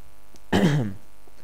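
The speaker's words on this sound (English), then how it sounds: "Sorry, I coughed there, I shouldn't have coughed." A single short, throaty cough rings out alone against quiet room tone, one abrupt burst that trails off within half a second.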